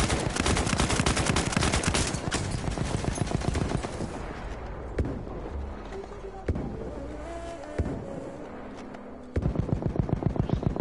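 Rapid automatic gunfire in a Battlefield 1 match, loud continuous bursts near the start and again at the end, separated by scattered single shots and quieter stretches while players talk.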